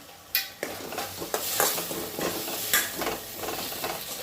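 Fried paneer tossed into tempered rice in a hot pan, with scraping spoon stirs and clinks over a soft, continuous sizzle, close and fairly quiet.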